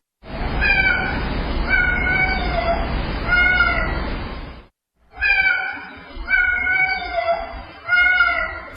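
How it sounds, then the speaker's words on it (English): A cat recorded through a home security camera meows repeatedly in drawn-out, voice-like calls, loud and close with a hissing background, a brief silent break partway through, then more meows. "her security cam filmed her cat meowing"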